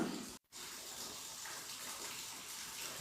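A steady gush of water poured from close by onto chicken in a pot, continuous and even after a brief pause at the start.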